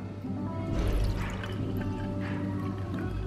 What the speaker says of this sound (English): pour in the water, and you put this thing on top like that.